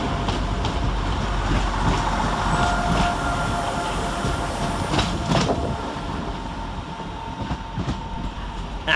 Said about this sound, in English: 175106, departing with the 1031 Transport for Wales service to Milford Haven via Crewe, Shrewsbury, Hereford and Cardiff Central.